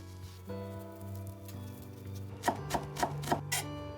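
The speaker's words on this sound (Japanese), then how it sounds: "大葉は千切りにし" Several crisp knife taps on a cutting board as shiso leaves are finely shredded, about five quick chops in a loose rhythm, over soft sustained background music.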